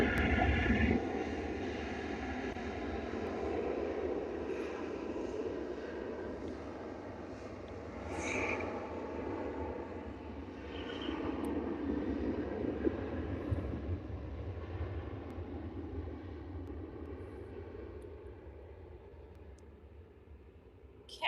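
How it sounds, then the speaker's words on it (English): A Ryanair airliner on its takeoff roll at Liverpool Airport, a broad, steady distant jet roar with wind noise that swells slightly in the middle and holds for about twenty seconds, with no talking. "Ryanair is on the roll."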